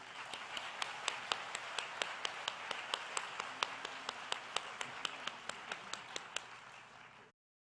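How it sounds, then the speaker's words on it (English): Applause for senior class officers at a 2023 Amarillo High graduation ceremony: a few distinct, evenly spaced claps stand out over a soft wash of distant audience clapping in a large hall, and everything cuts off abruptly near the end. "Please give them a round of applause."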